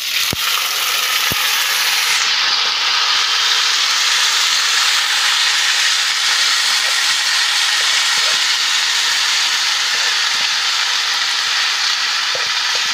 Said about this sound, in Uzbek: Guruchimizni 2-3 daqiqa qovurib,